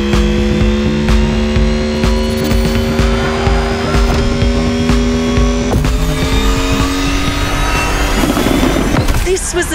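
A Mercedes Silver Arrow race car engine roars loudly in the video game The Crew Motorfest, a sustained high-revving whine with gear shifts and tire squeal, plus a voice speaking over it.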